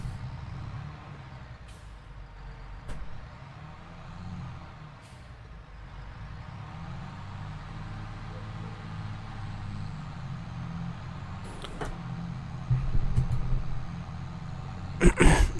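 A truck-like vehicle drives steadily in Farming Simulator 22, with a low rumbling engine drone, a few sharp clicks and a hissing air-brake-style burst near the end, no talk.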